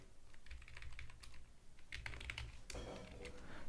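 Rapid typing on a computer keyboard while writing PHP code for a social media site, with a steady run of close, quiet key clicks and a few brief pauses, and no voice.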